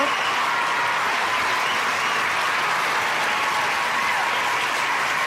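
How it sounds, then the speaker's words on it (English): An audience bursts into loud, continuous applause, a thick, even roar of many hands clapping that stays constant throughout. "Give her a round of applause."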